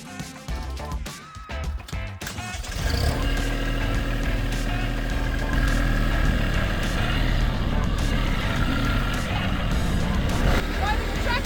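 A tractor engine starts up and then runs with a steady low rumble and vibration, close and loud, while the machine moves rocks around a driveway and flower beds on an RV property; people talk underneath.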